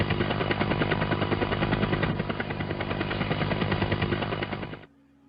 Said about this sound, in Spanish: El helicóptero.